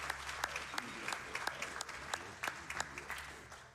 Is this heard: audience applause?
yes